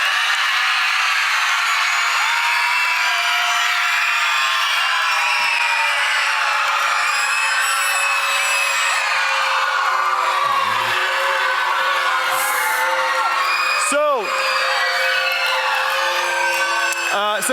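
A school chapel crowd cheering for teachers, loud shrieks, whoops and yells rising over a sustained roar of voices, with a few sharp high squeals standing out near the end.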